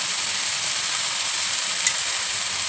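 Small fish fry in oil in a modular home kitchen, giving a steady, close, continuous sizzle with a faint crackle and no talking.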